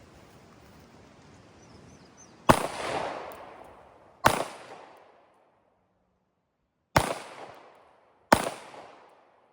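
Four suppressed gunshots aimed at a far target ring out outdoors, each a sharp, loud crack with a decaying tail, spaced irregularly over a faint background hiss.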